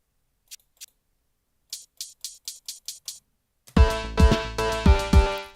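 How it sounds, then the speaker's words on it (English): Hi-hat drum sample played in Cakewalk Next, sounding as a few soft isolated ticks and then a quick even run of sharp, bright metallic hits, before a louder, fuller stretch of music takes over. "here's the hi-hat"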